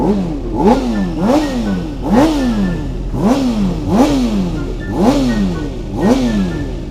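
Big motorcycle accelerating hard around the Sentul circuit, engine revving up and dropping in a steady repeating cycle, loud and close with no talk.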